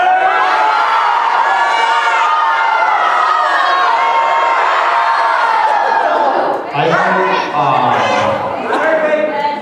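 A convention crowd at an anime event screams, cheers and whoops together at full volume for several seconds, a dense roar of many voices that dips briefly before swelling again.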